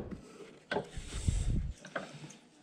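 A ratchet turning a 17 mm socket loosens the lower seat belt mount behind the driver's seat of an NB Miata, giving a few short clicking bursts up close with a brief gap between them.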